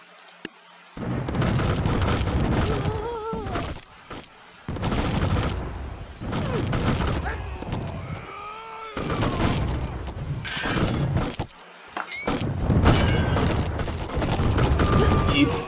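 Gunfire and explosive bursts from the battle game Totally Accurate Battle Simulator, loud repeated volleys and booms in dense clusters with brief gaps between them, carrying on through the whole stretch.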